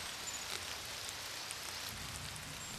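Sudden heavy rain falls steadily in a forest, a dense, even hiss of drops on leaves with no break, fairly quiet and close all around.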